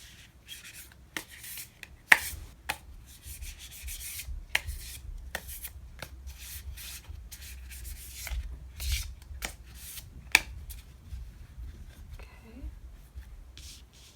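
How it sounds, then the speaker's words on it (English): Tarot cards are shuffled by hand in a quiet room for a December reading, giving soft rubbing and riffling bursts with a few sharper snaps, steady and close for over ten seconds with no one talking. "So let's give it one more quick shuffle."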